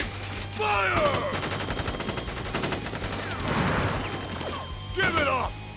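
Soldiers fire a volley of guns in Crisis Core Final Fantasy 7 Reunion: a sustained rattle of rapid gunfire across the battle, mixed with sweeping impact and whoosh effects and loud bursts near the start and end.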